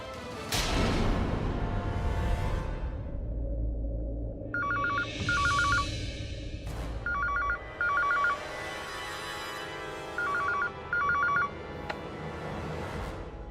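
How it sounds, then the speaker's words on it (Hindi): A mobile phone rings in a Hindi TV serial, its electronic ringtone repeating in short double bursts over a steady backing of music. "बेटा फोन बजेगा तो उठाना तो पड़ेगा ना।"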